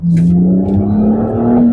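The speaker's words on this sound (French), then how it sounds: "J'accélère, ça repart tranquillement avec du couple." A BMW Z4 E89 30i roadster's engine pulls smoothly and steadily under light throttle, a loud, close, even drone whose pitch rises gently as it accelerates.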